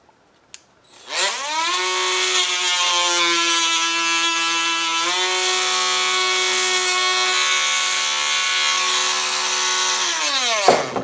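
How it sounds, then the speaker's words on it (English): A Dremel rotary tool trims model ship deck planking, a steady high-pitched whine of about ten seconds that shifts pitch slightly midway and winds down at the end. It is close and loud, with no talk. "I usually just cut a piece with the snips, and then I Dremel it straight,"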